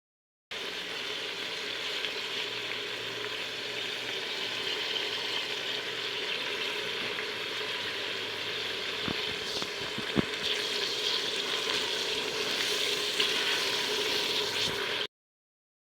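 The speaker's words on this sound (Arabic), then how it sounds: "نحطوا البصل، الثوم، الملح، التوابل تاعنا، الزيت، ونحطوهم يتقلاو مليح" Onion, garlic, salt and spices frying in oil in a pot, a steady even sizzle holding for the whole stretch, with a few faint clinks near the end.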